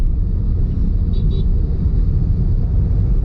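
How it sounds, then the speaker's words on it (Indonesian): A large factory shuttle bus passes through a Saudi industrial area as a loud, steady engine rumble and road roar, close and continuous the whole time, with a brief faint whine partway through. "Nah nih bis besar nih, bis jemputan juga nih."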